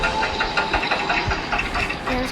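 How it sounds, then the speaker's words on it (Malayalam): Scooter engine running inside a Roblox escape dungeon obby game, a steady rough putter with pulsing knocks, fairly loud and close with no talk over it. "സ്കൂട്ടി"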